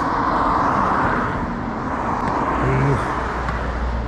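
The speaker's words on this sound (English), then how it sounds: "I'm right near a busy one-way, so you'll hear a lot of traffic." Heavy traffic on a busy one-way city street makes a steady, close roadway roar that runs unbroken from start to finish, with a passing car surging briefly near the end.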